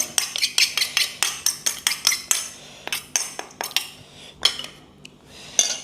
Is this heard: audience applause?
no